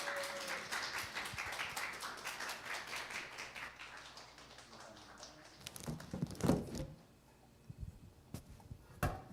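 Scattered audience clapping greets a speaker coming forward at a church New Year gathering, dense at first then thinning to a few sharp taps and knocks, fairly close and moderate in loudness.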